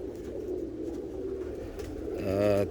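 Tippler pigeon cock bird cooing in a loft, a steady low murmur of coos that swells into a louder, closer call near the end.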